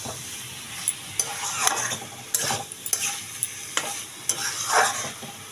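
Shredded cabbage mixed with moong dal is stirred in a pan, a spoon scraping and knocking against the metal in irregular sharp strokes over a soft frying sizzle, close and without talk.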